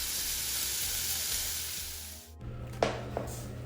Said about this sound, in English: We're gonna cook bacon on its own oil and just slightly spread it out.